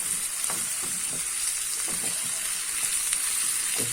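Dried coriander, garlic and a spoonful of harissa sauté in a hot pan with a loud, steady sizzle and crackle that holds throughout, with faint stirring knocks underneath.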